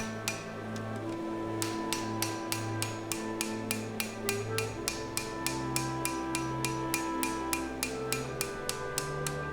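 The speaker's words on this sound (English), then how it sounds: "By hitting the blade on the edge with the back against the anvil, I can straighten out the bend" A hammer strikes a pattern-welded seax blade held edge-on against an anvil, ringing blows in a steady, fairly quick rhythm of about thirty evenly spaced metallic hits, close and clear over a low background hum.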